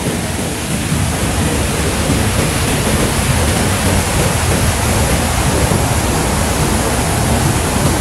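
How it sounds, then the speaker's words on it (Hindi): Bow Falls in Banff, in the Canadian Rockies, roars as fast water rushes over it: a loud, constant, close wash of noise with no break and no voices. "मेरे पीछे बाओ फॉल्स हैं, पानी इतना तेजी से जा रहा है"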